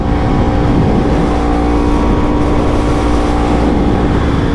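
A Yamaha R1 1000cc motorcycle engine roars steadily and loud throughout, a dense sustained revving with strong tonal harmonics and no voices over it.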